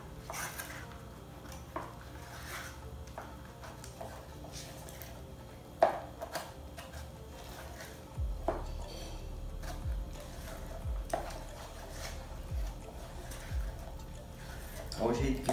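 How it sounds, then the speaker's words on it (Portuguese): A spoon stirs crushed Oreo cookies into a thick chocotone filling in a bowl, with soft scraping and occasional clinks against the dish, while a person talks throughout. "Então a gente vai misturar a nossa bolacha aqui dentro"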